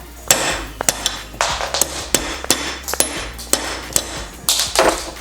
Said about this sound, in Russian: Давайте молоточком попробуем.